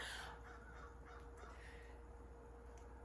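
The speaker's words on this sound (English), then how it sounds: "It sounds like a crow is laughing." A crow caws over a steady low background hum, its calls fairly faint and distant.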